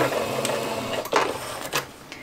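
A sewing machine runs a straight seam on patchwork fabric with a 2.5 stitch length, giving short bursts of fast mechanical whirring separated by brief pauses, close up with no talk.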